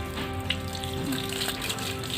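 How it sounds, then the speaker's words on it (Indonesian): Running water rinses a keris blade during a heirloom-weapon cleansing ritual, a steady close splashing trickle with no break, joined by a faint tonal hum in the background. "air mengalir."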